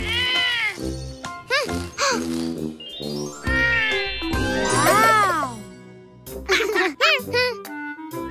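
A kitten in a children's cartoon gives several rising and falling meows, mixed in with a voice, chatter and a light jingle.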